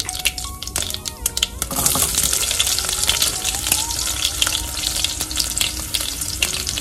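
Mustard seeds and chopped garlic fry in hot sesame oil, a close, steady crackling sizzle with sharp pops and spatters throughout, getting denser after the first couple of seconds.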